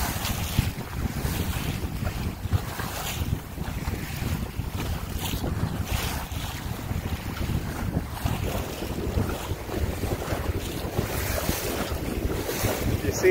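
Gusty wind buffets the microphone aboard a Compac 19 sailboat in rough seas, with constant low roar, sloshing waves and rushing water, loud and unbroken throughout; no talk.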